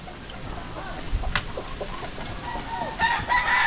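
Chickens cluck with a rooster crowing nearby, the calls loud and mixed with rustling and other outdoor noise; no clear speech.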